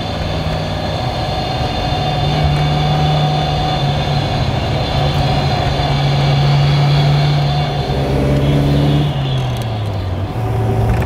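A 1938 Bugatti Type 57 engine idles steadily with a rumbling, low droning hum, close and fairly loud, shifting slightly in pitch near the end.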